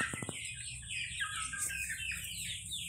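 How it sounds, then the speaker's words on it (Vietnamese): Ri breed chickens on a small family farm, several soft clucks and chirps close by, starting with a quick burst of short clucks and followed by scattered calls over low background noise. "Giống gà ri, gà đủ loại gà ấy."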